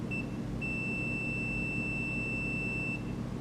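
A telecom continuity tester on a wire gives a brief chirp, then a single sustained high electronic tone lasting about two seconds over a steady low background hum.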